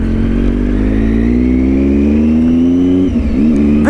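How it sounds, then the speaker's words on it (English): A Triumph Tiger 800 motorcycle with a 94 horsepower triple engine and a Yoshimura exhaust runs close and loud, its deep grumble rising steadily in pitch and then dipping briefly as the throttle shifts. "This has got a Yoshi exhaust, which you can hear grumbling in the background"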